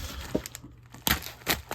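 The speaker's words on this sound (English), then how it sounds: "you know how handy a steel ruler is for cutting open packages" A steel ruler slices open a vintage Superman trading card package, giving a few short, sharp tearing and crinkling bursts of paper and foil, close and fairly quiet, with no talk.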